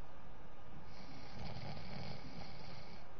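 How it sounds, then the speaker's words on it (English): A person snores steadily while asleep, a deep rasping inhalation swelling across the whole short stretch, loud and close with no talking. "Proper snoring, too."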